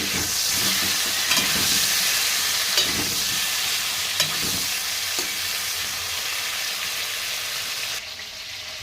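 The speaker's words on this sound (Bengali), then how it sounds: "এবারে মাথাগুলো খুব ভালোভাবে ভেজে নেব এবারে মাছটা উল্টে দেবো মাথাগুলো" Fish heads fry hard in an oil-filled pan, a dense continuous sizzle with occasional scraping and turning knocks from stirring, close and loud throughout.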